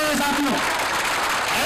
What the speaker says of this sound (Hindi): इसके लिए आशीष खेतान के लिए जोरदार तालियों स्वागत करिए सर